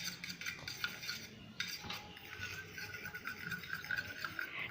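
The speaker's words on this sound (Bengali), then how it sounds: "ডিমটা ভালো করে ফেটাতে হবে," Eggs mixed with Maggi masala spice are beaten in a bowl: a faint, close, continuous rapid clinking and scraping of utensil against the dish, with no speech.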